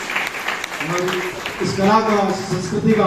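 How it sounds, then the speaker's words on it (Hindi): Audience applause in a hall during a prize announcement at a traditional Aipan art competition, heard briefly under someone speaking over a microphone. "लोग तालियां बजा दिए हैं"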